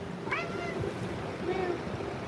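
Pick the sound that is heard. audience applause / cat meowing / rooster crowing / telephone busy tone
cat meowing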